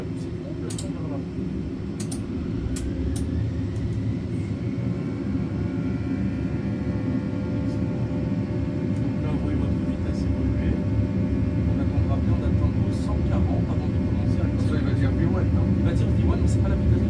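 Airbus A320 flight simulator engines spooling up to takeoff thrust, a deep steady roar with a rising whine that builds gradually over the whole stretch, with a few sharp clicks early on.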